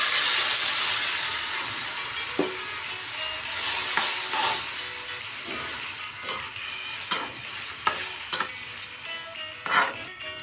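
Shrimp stir-fried in a pan for an Acehnese coconut-milk dish, a loud steady sizzle under repeated sharp scrapes and clanks of a spatula against the pan.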